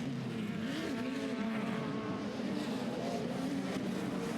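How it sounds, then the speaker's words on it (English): Pro 4, Pro 2 and Pro Lite off-road race trucks at a 2007 CORR short-course race, with engines droning and revving continuously as they race around the dirt track, heard at a steady moderate distance. "That's Hart in the orange truck, Impudia in the red and white machine"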